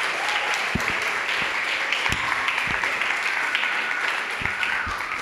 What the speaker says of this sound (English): I really, really want you to help me give them a big round of applause